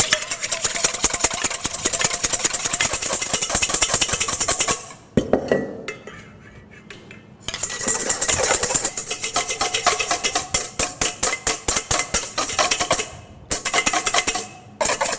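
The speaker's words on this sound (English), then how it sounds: "when I whisk them, they whisk up frothy" Room-temperature egg whites with cream of tartar being whisked to stiff peaks, a fast, loud, steady clatter of whisk against bowl running nearly throughout, with a brief quieter pause in the middle.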